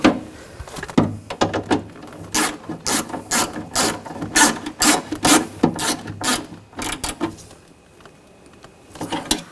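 A ratchet snugging down bolts on a 2000-2006 BMW X5 front window motor, rapid bursts of sharp clicking pawl strokes in quick repeated runs, close and loud, with a pause near the end.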